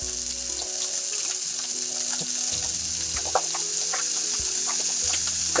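Brussels sprouts sizzle and fry in hot oil in a pan, a steady bright hiss with scattered pops and crackles, close and continuous with no talking.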